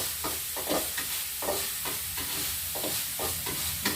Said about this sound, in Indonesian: terus kita aduk sampai masak dulu, sampai masak.